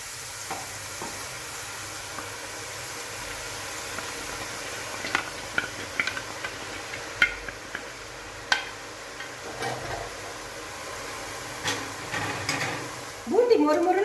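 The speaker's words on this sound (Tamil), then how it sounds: "எண்ணெய் நல்ல சூடாயிடுச்சு. ஒரு கரண்டி மாவு எடுத்து தேய்ச்சி விடுறேன்." Boondi batter is pressed through a ladle into hot oil, giving a steady low frying sizzle broken by soft scraping taps and clinks, with a louder burst of bubbling near the end; no talking.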